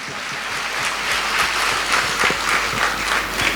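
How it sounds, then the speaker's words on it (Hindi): A church congregation at a Sunday service at Hastings Chapel in Kolkata claps hands together in loud, sustained applause that carries on evenly from start to finish, with no speech heard. "ताली बजाकर हम परमेश्वर को धन्यवाद दें।"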